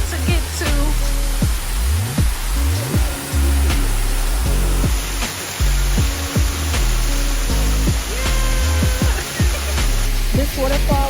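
A waterfall on a nature trail near Nairobi, Kenya, a loud, constant rushing roar of falling water close by, with voices talking over it.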